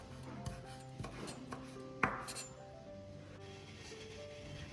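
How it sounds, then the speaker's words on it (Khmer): A knife chops green scallion leaves on a cutting board, a few soft irregular taps set against a steady low background hum in a kitchen, fairly quiet. "យើងឆ្លៀតពេលមកហាន់ស្លឹកខ្ទឹមឲ្យហើយ"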